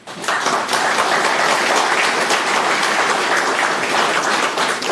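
Steady, dense applause from a large audience at a territorial state address, filling the whole stretch with even clapping and no break.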